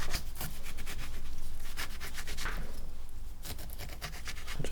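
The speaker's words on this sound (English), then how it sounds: "Just trim off that white pith." A knife trims the peel and white pith off fruit during mocktail preparation, making steady close-up scraping and rubbing strokes with a few sharper cuts over a low background hum.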